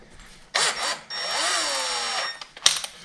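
A power drill with a small bit pre-drilling screw holes for a deadbolt in a door, running in two close bursts, the second longer and shifting in pitch, followed by a brief clatter.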